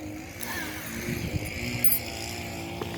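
Electric drill boring with a 20 mm spade bit, a steady continuous motor whine with grinding cut noise throughout, fairly loud and unbroken, no speech over it.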